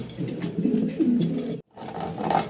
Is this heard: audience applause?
no